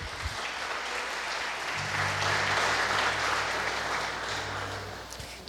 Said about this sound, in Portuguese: dê mais um forte aplauso a ele